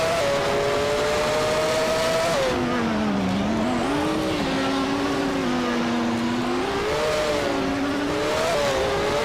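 Benetton B196 Formula One car engine in a racing game, a loud, steady high-pitched whine that holds, drops as it lifts off, then climbs and wavers through gear changes for about nine seconds, with no talking.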